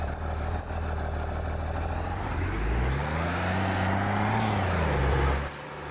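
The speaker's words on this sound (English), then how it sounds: "There's a little bit of turbo noise there." A steady engine drone in Farming Simulator 22 with a high, thin turbo whine that rises and then falls away near the end, continuous and fairly loud.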